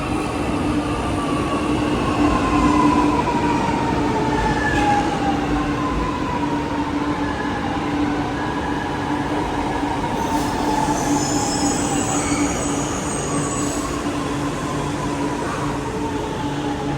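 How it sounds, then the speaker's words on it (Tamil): A metro train passes close by with a steady, loud rumble of wheels on rail and thin, drawn-out wheel squeals rising and falling throughout, with no voices. "மெட்ரோ"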